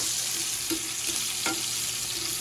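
Tomatoes scrambled in a hot pan, a steady broadband sizzle with a few soft scraping strokes of a utensil, close and continuous, no talking.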